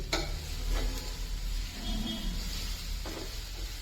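Green chili thecha fries in a pan with a soft, steady sizzle, and a few clinks of a spoon stirring punctuate it close by.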